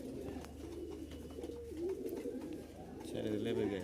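Giribaj high-flying pigeons from Rajshahi cooing softly, with low, throaty coos repeating over several seconds and faint background voices.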